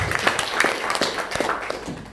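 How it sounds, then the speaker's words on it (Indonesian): Audience applause at an Indonesian corporate gathering, a brief burst of scattered, fairly close hand claps that stays irregular and thins out toward the end. "Tepuk tangan untuk kita semua."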